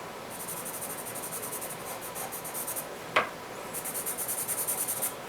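Graphite pencil shading a dark area of a bird nest drawing on paper, a steady close scratchy rubbing in quick back-and-forth strokes with one sharp tap in the middle.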